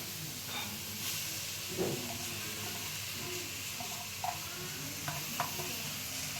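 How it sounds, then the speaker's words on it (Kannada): Leafy greens such as sabbasige frying in a pan for egg palya, a continuous hissing sizzle with occasional clinks and scrapes as they are stirred. "ಸೊಪ್ಪಾಕಿ ಚೆನ್ನಾಗಿ ಹುರಿಬೇಕು"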